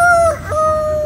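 A man imitates a rooster's crow, a loud, close, drawn-out cock-a-doodle-doo with a brief dip in the middle, delivered alone without other talk.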